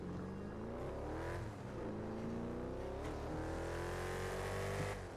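Car in GTA 5 driving with a droning engine that rises and dips as it shifts and revs, steady and fairly close throughout.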